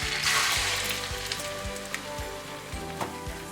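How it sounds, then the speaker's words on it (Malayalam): Spanish omelette mixture tipped into a pan on low heat, giving a steady close sizzle and crackle with a few soft pops and thuds as it settles, no voices. "നമ്മുടെ ഓംലെറ്റിൻ്റെ മിക്സ് ഇതിലേക്ക് ഇട്ട് കൊടുക്കണം ആക്ച്വലി"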